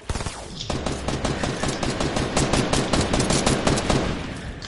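Rapid automatic gunfire from a shooter video game rattles almost nonstop for several seconds, loud and dense, with bursts overlapping and no voices.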